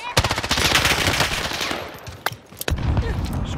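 Rapid machine gun fire in a squad-based battle royale shooter, loud sustained bursts of rattling shots that break off near the end into a few scattered single cracks.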